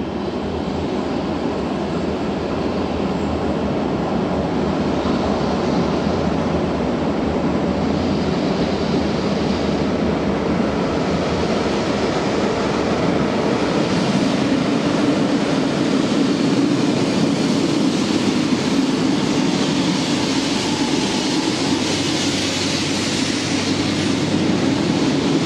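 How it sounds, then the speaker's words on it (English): A green RENFE Cercanías line C3 commuter train departs in Bilbao, Spain, its broad rumbling roar and whine swelling steadily and holding loud throughout. "this is a line C3 green train departing"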